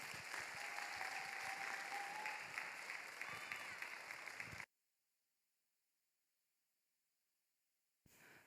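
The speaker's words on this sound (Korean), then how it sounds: "우리 김가영, 정민수 커플을 축하의 박수로 맞이해 주시기 바랍니다." A young adults' church congregation applauds an engaged couple with sustained, full clapping that fills the hall for several seconds, then cuts off abruptly into near silence.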